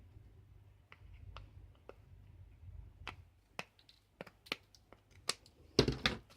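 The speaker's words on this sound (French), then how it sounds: "Maintenant, je vais découper le surplus." Short crisp snips and clicks as scissors trim excess paper from a handmade card, close and irregular, growing busier and louder toward the end.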